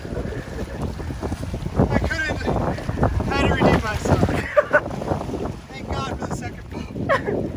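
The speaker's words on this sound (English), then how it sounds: "No, that's the big boat too." A big ferry passes by with heavy wind buffeting the microphone and a rumble of water and waves, while people talk excitedly over it.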